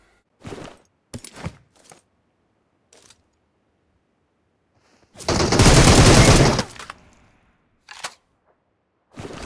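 A sustained burst of rapid gunfire in PUBG Mobile, preceded and followed by scattered single shots and clicks, loud and close.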